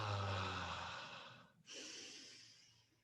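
Slow, forceful exhale through the nose or mouth during a Kundalini breathing exercise, close and breathy, with a brief pause and then a second long, softer breath.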